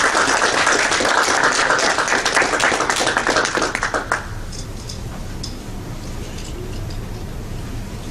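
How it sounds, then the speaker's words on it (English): An audience gives a college lecture speaker a round of applause: loud, dense clapping for about four seconds that abruptly stops, leaving quiet room tone with a few scattered taps. "let's all give him a round of applause"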